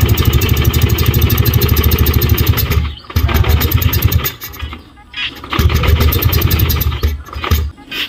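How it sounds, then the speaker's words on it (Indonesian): A Lexi LX 155 VVA motorcycle engine runs close by right after being started, but it falters and keeps trying to die. Loud chugging idle is broken by short drops where it nearly stalls, then it recovers. "Ini di starter nyala,"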